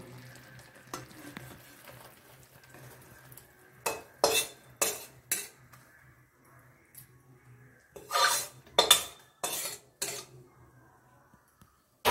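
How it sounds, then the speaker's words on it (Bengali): Coconut and sugar mixture being poured and spread on a ghee-greased plate, heard as a series of clinks and scrapes of a utensil against the plate in short bursts with quiet gaps between. "এবার এই নারকেল চিনির মেলবন্ধনটা এখানে ঢেলে দেব।"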